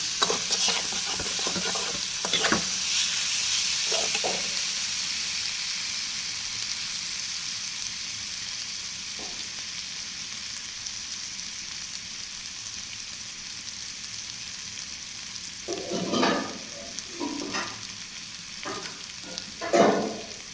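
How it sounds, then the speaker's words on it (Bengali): Lentils (dal) frying in a pan crackle with a steady sizzle, broken by a few louder stirring scrapes and clatters near the start and end, with no talking. "ডালটা ভাজা হয়ে গেছে"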